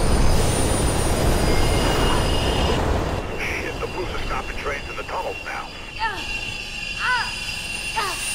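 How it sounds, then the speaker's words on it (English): A train in the video game Mirror's Edge approaches from behind. It sounds as a loud rumbling rush that fades, followed by scattered metallic wheel squeals and screeches. There is no speech. "There's a train coming behind you."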